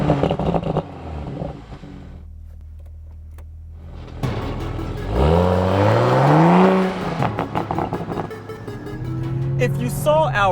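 A 2020 Toyota Supra GR 3.0 Premium pulls away, its engine rising through a loud, sweeping rev while it accelerates, with music or voices heard faintly in places.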